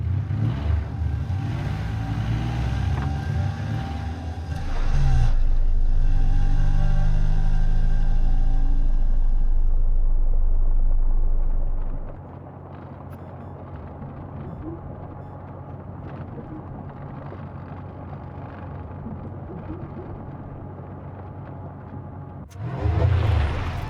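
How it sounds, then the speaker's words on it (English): A car in the video game Encased drives away, its engine rumbling loud and low at first, then settling into a steadier hum as it moves off, with music or ambience underneath. "Let's get in the car and drive away immediately."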